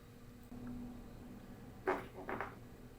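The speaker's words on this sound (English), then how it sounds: "that was my bench squeaking" A watchmaker's workbench creaks and squeaks during the servicing of a Cartier Pasha watch: two short, moderately loud squeaks close together, against a quiet room with a low hum.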